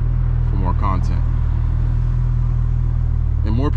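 A tuned Hyundai Genesis R-Spec making over 450 hp on E85 fuel, driven at night, gives a loud, steady low engine drone throughout, with brief voices cutting in over it.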